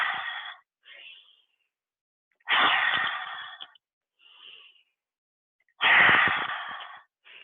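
Deep breathing exercise: three long, forceful breaths alternate with short, softer ones, each a breathy rush of air with silent pauses between, close and clear.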